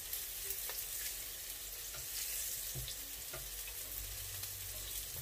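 Small cubes of food fry in oil in a pan: a fairly quiet, steady crackle and sizzle with occasional soft pops, and no talk.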